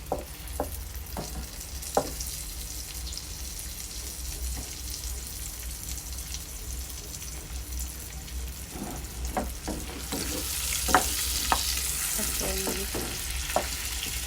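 A salmon steak fries in a pan with a soft, steady sizzle, punctuated by occasional sharp clicks and taps, and the hiss grows brighter toward the end.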